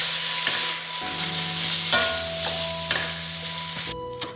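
Cooked green beans stir-fried in a wok with salt make a steady close sizzle and frying hiss, with scraping stirs of the spatula at regular intervals and no talking.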